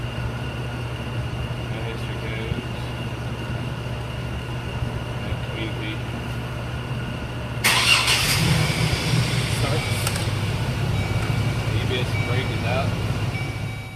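A Chevrolet engine, just fixed after an ignition switch repair, cranks and catches about halfway through, then settles into a steady idle over a constant low electrical hum.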